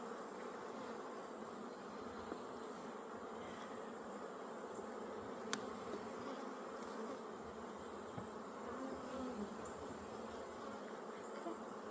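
Honeybees buzzing steadily around an open brood box of a backyard hive, a dense continuous drone of many insects with no speech.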